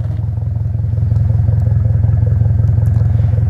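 A modified Subaru Impreza with an FB20 engine, a Nameless Performance 5-inch muffler and a resonator delete idles with a deep, steady, throbbing exhaust burble, close and loud, with a faint rattle on top.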